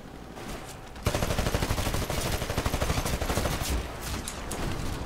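Sustained rapid turret gunfire in the shooter game Titanfall bursts in abruptly and runs as a dense, loud, rhythmic stream of shots before easing slightly toward the end.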